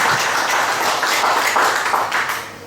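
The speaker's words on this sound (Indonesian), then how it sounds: "tepuk tangan untuk Mas Akmal sama Mas Agus" Dense, sustained applause from an audience at an Indonesian community event hosted by LSM Cordova, honoring two guests; steady and fairly loud throughout, tapering slightly at the end.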